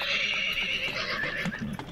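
A horse neighs loudly and close, a sustained whinny spanning the whole stretch with strained, wavering tones over a few clip-clop hoof sounds.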